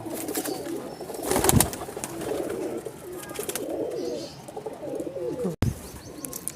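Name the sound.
Silver Prince Kamagar pigeons cooing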